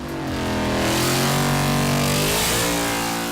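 A replica 1966 Shelby Mustang with a 460-horsepower engine and six-speed transmission revs loudly up and back down in one continuous rising and falling roar, close by, with no talking.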